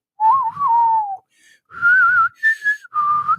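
A person whistles a melodic tune in several separate phrases, clear and close, with brief pauses between them and no talking.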